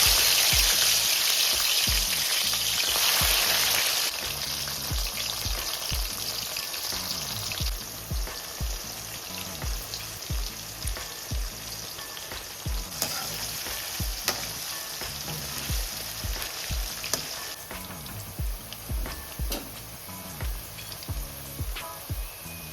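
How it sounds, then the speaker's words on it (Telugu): Salted ivy gourd pieces deep frying in oil, a dense continuous bubbling sizzle heard up close, with rhythmic stirring scrapes and soft clinks running through it. "కట్ చేసి పెట్టుకున్న దొండకాయల్లో మనం కొంచెం సాల్ట్ వేసి బాగా కలుపుకొని దొండకాయల్ని ఇలా డీప్ ఫ్రై చేసుకుందాం."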